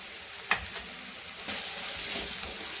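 Spices and turmeric fry in oil for a spicy kat vada masala, with a sharp sizzling burst near the start, a pause, then a louder continuous sizzle up close.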